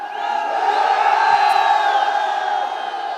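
A crowd at an ice hockey championship in India roars and whoops in a continuous, loud swell as the wave passes through the stands.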